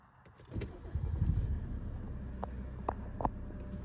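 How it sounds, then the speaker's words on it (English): A 1999 Mercedes E300 turbodiesel (OM606 engine, W210) is started with the key: brief key jangling, then the diesel cranks and catches into a steady, close idle, with a few light clicks and knocks over it. "I'm going to turn on the car."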